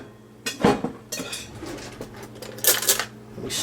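Yeast and Splenda stirred into warm water in a bowl, a few bright clinks and scrapes of a utensil against the container in separate bursts, close and moderately loud.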